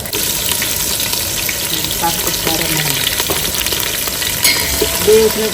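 A tempering of cumin, garlic and curry leaves fries in hot oil, giving a loud, close, continuous crackling sizzle with occasional stirring clinks throughout.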